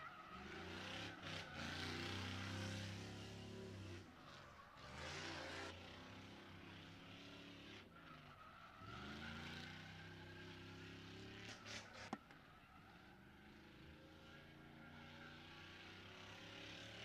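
A New Edge Mustang drifting on a track, its engine revving up and down in long sweeping surges, heard from a distance and fairly faint, with a sharp snap near the end.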